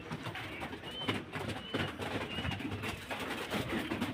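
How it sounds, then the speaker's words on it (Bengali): Pet pigeons coo softly at close range while feeding, a continuous low murmur of calls with light fluttering and rustling beneath, no voices heard. "আপনাদেরকে আমি আজকে আমার কবুতরগুলো দেখাচ্ছি"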